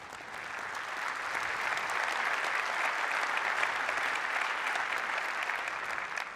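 Conference audience at an OpenStack event applauding, a loud continuous wash of clapping that holds steady for several seconds with no speech over it.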